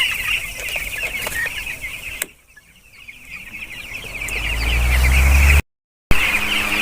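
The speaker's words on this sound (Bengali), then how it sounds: "মুরগিগুলো হাঁপাচ্ছে" Chickens on a poultry farm clucking and panting, a dense chorus of bird calls that briefly quiets and is then joined by a rising low rumble.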